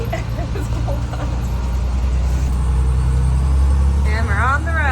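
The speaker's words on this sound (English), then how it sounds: "First time driving a school bus ever." A school bus engine drones steadily with a low rumble while the bus drives on the road, close and continuous, with a person talking over it and a brief whistle-like chirp near the end.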